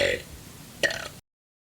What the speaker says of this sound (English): One of the oldest videos I could find was this video of me burping the ABCs